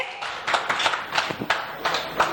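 An event audience applauds speaker Arjun Gaur with a steady patter of close claps, quick, rhythmic slaps that pulse unevenly for a couple of seconds.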